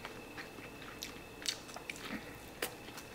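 Close, faint chewing and biting on a fried croquette from a homemade bento, with a few soft crunchy bites spread across a quiet room.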